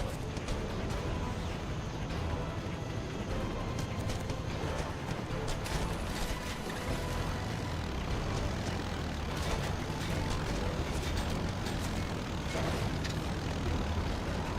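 A military gunship aircraft in a video game drones loudly and without a break. Its dense engine roar fills the scene along with continuous gameplay noise, and no voices are heard.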